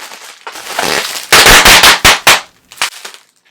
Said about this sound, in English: Some bubble wrap.